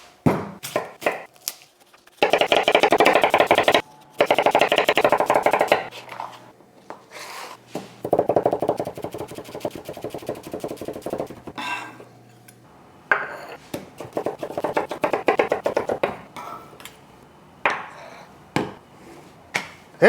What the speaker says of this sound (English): let's go ahead and slice into this al pastor and see how it came out